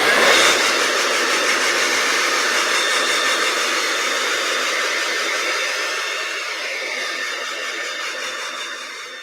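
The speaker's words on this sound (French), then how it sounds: "Donne un petit coup de sèche-cheveux." A hair dryer blows with a steady broadband whoosh, close and loud, easing slightly toward the end with no talking.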